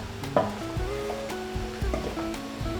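A mushroom curry is stirred in a pan, with soft sizzling and scraping strokes at close range.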